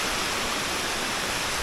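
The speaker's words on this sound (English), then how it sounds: "This waterfall here is part of the water that comes down to Chin's land" A waterfall at Palasanon pours in a steady, dense broadband roar, close and continuous with no other sounds.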